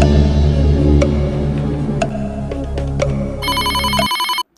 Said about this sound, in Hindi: तो ठीक है रोबोट महाशय, फेकू चंद जी को फोन लगाइए।